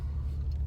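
A car rolls through traffic in the Villages, with a steady low road and engine rumble from inside the cabin, constant and close with no talk.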